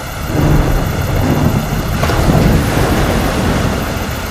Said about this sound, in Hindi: अचानक बादल छा जाते हैं और घनघोर वर्षा होने लगती है।